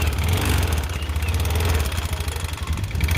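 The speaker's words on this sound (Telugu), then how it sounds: "ఇంజన్ సౌండ్ అయితే విన్నారు కదా" A small Activa scooter engine with a seized-engine fault idles nearby, a steady low putter with a slightly uneven, knocking rhythm and no voices.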